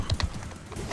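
Horse hooves galloping in Mount & Blade 2: Bannerlord give a quick burst of close clip-clop beats over a busy battle background.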